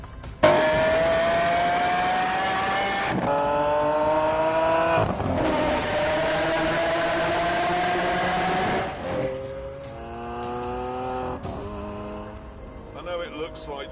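A supercar in The Grand Tour racing game is driven hard on a scenic road, its engine note rising and dropping sharply through gear changes with tyre squeal, loud and close throughout, while a voice speaks over it.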